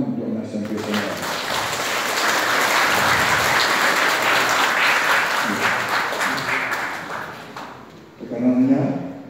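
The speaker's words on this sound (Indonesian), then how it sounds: "Tepuk tangan untuk SMP SMA." An audience at a school foundation gathering in Bali applauds in a dense, sustained burst that swells and then fades, with a voice speaking briefly near the end.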